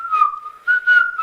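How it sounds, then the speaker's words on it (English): A high steady whistle tone held through short repeated blasts, loud and close, with no talking. "A whistle is good for signaling."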